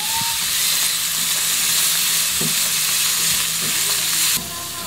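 Carrots and potatoes stir-fry in a pan with a loud, steady close sizzle and hiss, broken by occasional scraping stirs, with no talking and a sudden drop in level near the end.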